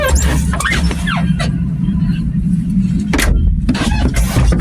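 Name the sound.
tractor engine starting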